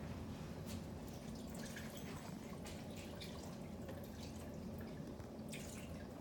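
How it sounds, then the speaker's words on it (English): Apple juice pours steadily into the 72 oz pitcher of a Nutri Ninja Auto-iQ 1200 watt blender, a continuous liquid splash and trickle heard close up without any talk. "with your apple juice, you are going to pour your apple juice in."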